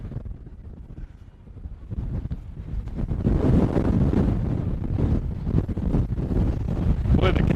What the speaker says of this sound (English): What would you guess our wind gusts here are? I'd say we're probably 40, 50 miles an hour right now.